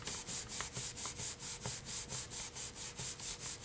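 Steady back-and-forth rubbing of a glued craft piece against a craft mat, about a dozen even, soft scrubbing strokes in a regular rhythm, close and quiet with no voices.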